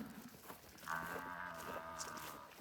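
A Brahman bull or cow lets out a single drawn-out moo from a short distance, rising and holding for over a second against quiet outdoor background.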